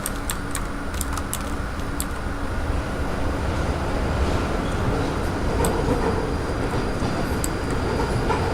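A train in the Fallout London video game rumbles steadily along the line, a continuous loud rolling roar with occasional faint clicks and a thin high whine, no voices heard.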